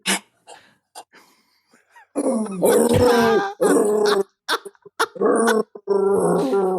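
A dog growls and barks in several loud, close bursts, with a few softer sniffs and whimpers before, no talking.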